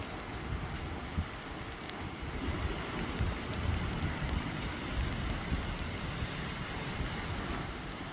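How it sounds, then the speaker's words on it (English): Steady rain falls outdoors near a waterfall in the Maskeliya and Hatton area of Sri Lanka, a continuous dense patter at moderate distance with low rumbling wash underneath and no voices. "It's still raining."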